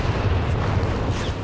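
Officers' artillery in Company of Heroes 3 on a 3v3 Gazala bunker map: a heavy rumbling barrage of booms rolling continuously, loud and deep, with no speech over it.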